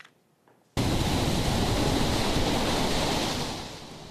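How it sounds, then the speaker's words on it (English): After a brief quiet moment, a loud rush of crashing surf bursts in on the Carolina coast as Hurricane Florence approaches, roaring steadily, easing off slightly toward the end. "you can hear the crashing of those waves"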